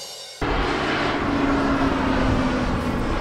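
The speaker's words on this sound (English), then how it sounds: "There's an airplane over there spraying, so I'll try to be careful." A crop-spraying airplane flies over a farm field, its engine cutting in suddenly and holding as a steady broad drone with a faint tonal whine, fairly loud and continuous.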